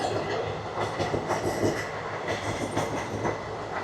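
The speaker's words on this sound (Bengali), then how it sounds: "আরে মেমু না রে, এটা ডেমু ট্রেন" A DEMU diesel-electric multiple unit train passing on railway tracks on a winter road trip, a continuous loud rumble with rhythmic clickety-clack of wheels over rail joints, close by and unbroken.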